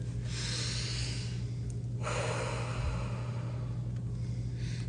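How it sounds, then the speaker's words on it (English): Slow, deliberate heavy breathing for breath work, with long airy inhales and exhales that are close and steady over a constant low hum, no talk. "I'm hearing you need to do breath work, which is why I'm breathing the way I am."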